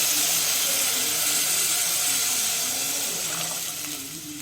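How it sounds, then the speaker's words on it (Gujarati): A hissing rush of water flows into a cooking pot of rice, loud and close, fading slightly toward the end. "આમાં નાખી દઈશું આપણે પાણી. પાણી નાખી દેવાનું."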